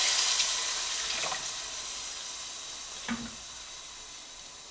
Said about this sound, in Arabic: هنزل بالميه بتاعتي